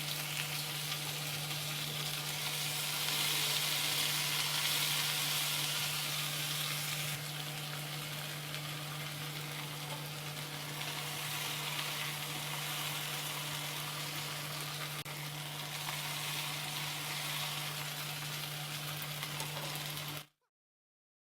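Okra for bhindi masala fries in oil over medium heat with a steady, even sizzle that carries on unbroken for about twenty seconds beneath a low constant hum, then cuts off.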